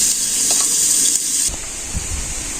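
Onions and green chilies frying in a pan during village cooking, a hissing sizzle that drops in level halfway through, with a few soft stirring knocks, close up and alone.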